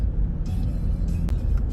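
Highway traffic heading into Baltimore, Maryland gives a steady, close low rumble of cars and tyres on the road, with brief passing swells in a short stretch.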